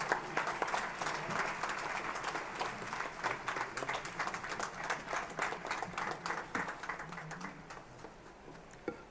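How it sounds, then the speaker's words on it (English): Sustained applause from an audience at an Independence Day celebration, dense clapping throughout at moderate distance, swelling slightly before tapering off near the end, with no talking over it. "let's give a big round of applause to the chief guest, Honorable Lieutenant General Dheeraj Seth."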